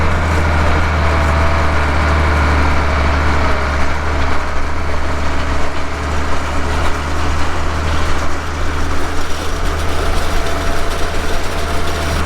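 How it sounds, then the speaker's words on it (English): A farm tractor's engine runs steadily nearby during spring fieldwork while it pulls a ground-smoothing tool across a field. The low, heavy diesel drone holds constant throughout, with no talking over it. "That tractor's handy as heck, that is for sure."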